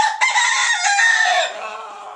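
A rooster crows in a backyard coop housing one rooster and 26 hens, a single loud, close call that holds strong and then tapers off over about two seconds.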